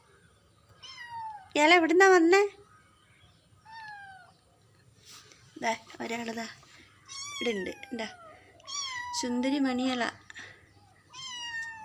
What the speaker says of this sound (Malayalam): ഇവിടെ ഇങ്ങനെ പൂച്ചക്കുഞ്ഞ് കരയുന്നു.